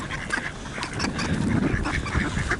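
A flock of mallards gathered near the seafront at Skegness keeps up a chorus of overlapping quacks, moderately loud and fairly close, with no talking.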